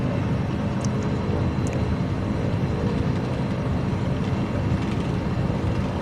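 Airliner engines roar at full takeoff thrust in Microsoft Flight Simulator 2024, a steady, loud, broadband rumble that fills the whole clip with no voices.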